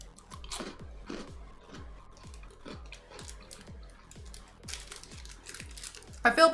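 Someone chews crunchy, slightly sweet Japanese rice crackers right at the mic, a regular series of crisp bites and crackles with a louder rustle near the end.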